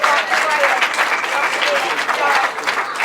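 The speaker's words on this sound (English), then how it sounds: "would you like to give this gentleman a big round of applause?" An audience at a British Masters grasstrack event applauds speedway rider Reg Luckhurst with sustained, dense clapping, steady and fairly loud throughout.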